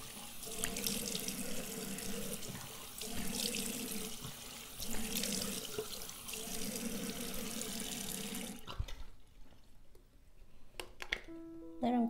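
A bathroom tap runs steadily for about nine seconds while a face is rinsed during a nighttime skincare routine, then the water stops, leaving a few faint drips and small sounds.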